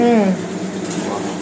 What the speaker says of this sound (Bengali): এদিকে খুন্তি নাড়াচ্ছে, কি করছে? চাউ হচ্ছে আজকে। এদিকে পটল ভাজা